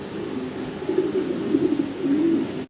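A large pair of young fancy pigeons coos nearby in low, throaty rolling calls that swell and continue steadily for a few seconds.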